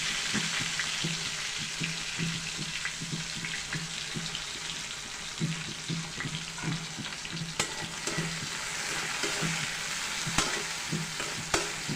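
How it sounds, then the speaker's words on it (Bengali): Chopped onions and green chilies fry in a pan with a steady sizzle while a spoon stirs in a repeated scraping rhythm, close and moderately quiet, with running tap water in the background. "কিছু সময় ধরে একটু নাড়তে হবে।"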